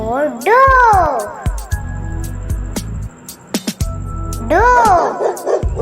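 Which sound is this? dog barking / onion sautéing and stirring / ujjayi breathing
dog barking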